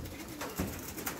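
Pigeons of several breeds, including Pakistani teddy, giribaz and golai types, give soft low coos in a couple of brief swells over steady background noise, fairly close.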